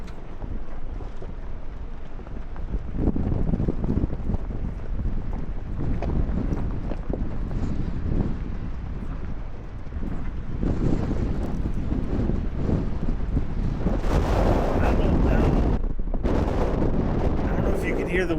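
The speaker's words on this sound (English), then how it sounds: "Hear the wind, but it is" Wind roars and buffets the microphone on a steep slope, a continuous rumbling gust that swells and eases in waves, loud and close throughout.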